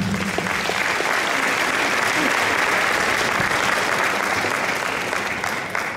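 An audience at a 40th-anniversary gathering of the Pakosław commune claps for an honoured local man. The dense, loud applause holds steady for the whole stretch, with faint voices in the crowd.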